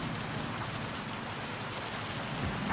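Steady rain hisses in a racing video game on the Autopolis circuit, a dense, even wash of noise that stays constant throughout with no voices.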